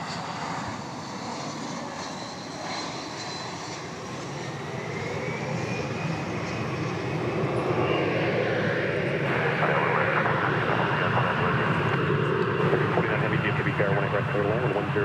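An American Airlines jet takes off from runway 18 left at DFW Airport, its roar swelling from a distant rumble into a loud, sustained engine drone, with a voice speaking over it.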